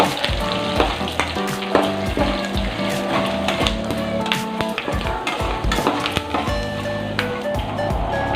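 Green chilies and curry leaves frying in hot oil, giving a steady close sizzle with crackles and occasional stirring clinks throughout.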